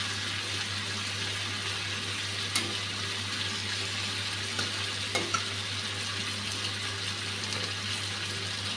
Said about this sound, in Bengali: এখন মাছের পিসগুলা আর বেগুনগুলা দিয়ে দিলাম।